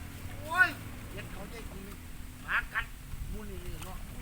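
Two short bursts of duck quacking, one early and a pair later, over a low background hum with faint voices.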